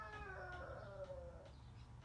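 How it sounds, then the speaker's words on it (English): Roosters crow outside at a distance, faint wavering calls rising and falling over a steady low background hum. "I got some roosters outside being a little noisy right now."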